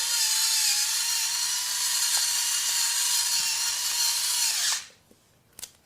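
A battery spice grinder whirs steadily as it grinds hard pepper over a salad bowl, a loud continuous electric motor hum with a gritty crunch, then it cuts off abruptly near the end, followed by a couple of faint clicks.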